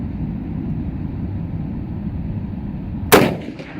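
A single loud, sharp rifle shot from a U.S. M1917 .30 caliber rifle firing a 180 grain soft point round, a sudden blast that rings out and decays over a second amid steady outdoor background noise.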